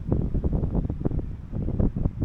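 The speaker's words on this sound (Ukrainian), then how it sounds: "Вітер вже такий починається, що вже голову зносить." Strong gusty wind buffets the microphone in a continuous low roar with rhythmic surges, loud and close, with no voices, while fishing by the sea.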